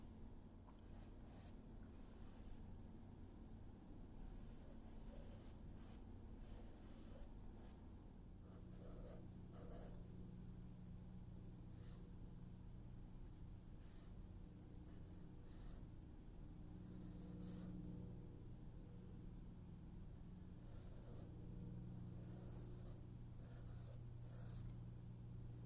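Compressed charcoal dragged across paper in a quiet room, a soft continuous scratching with short brisk strokes and rubs, faint and close, with no talking.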